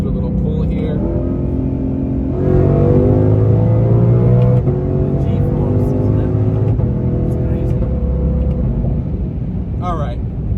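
A Ford Mustang GTD pulls hard on a local road, its engine rumbling loudly and climbing in pitch as it accelerates, then easing and surging again, heard from inside the cabin throughout.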